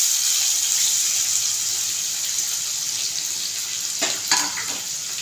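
Onion fries in a pan, giving a soft, steady sizzle with a few brief clinks near the end.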